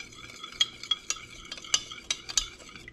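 A utensil stirs salt into a hot sauce brine, scraping and clinking against the container in quick irregular strokes, close and crisp with a faint background hum.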